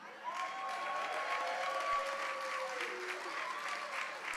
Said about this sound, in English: give a big round of applause to the student crew